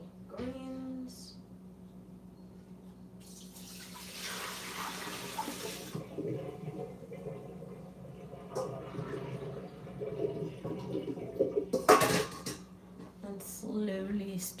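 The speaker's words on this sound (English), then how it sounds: "Just finished washing my greens." Tap water runs steadily while leafy greens are washed at a kitchen sink, a continuous hiss and splash with louder bursts toward the end.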